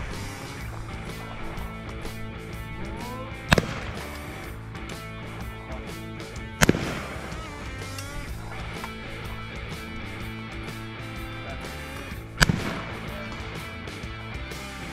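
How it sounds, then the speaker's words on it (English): Three sharp shotgun shots at an outdoor trap shooting range, fired from the 16-yard line, crack out at spaced intervals over a busy background of music-like tones and ambient noise. "going to shoot now"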